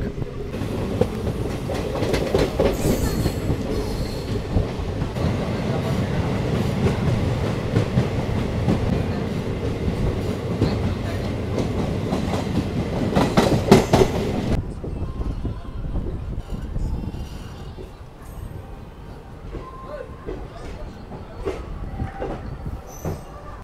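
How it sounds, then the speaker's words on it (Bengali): Passenger train pulling out of Barang railway station, a loud rumble of wheels and carriage noise with rattles and squeals, easing to a quieter steady rolling sound near the end. "আমার ট্রেন ছেড়ে দিল বারাং রেলওয়ে স্টেশন থেকে।"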